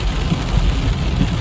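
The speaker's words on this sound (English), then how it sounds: "look at that rain just falling, just coming right off that roof right there" Torrential rain in Big Bear Valley, California, pours hard and pours off a roof, a dense, constant roar of water close by with no one speaking.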